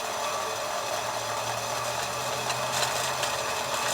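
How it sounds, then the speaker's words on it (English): An exhaust pipe is being cut on a budget turbo build of a 2018 Ford Mustang GT 5.0, giving a loud, steady, unbroken whirring grind with no voices. "So we are cutting the exhaust right now."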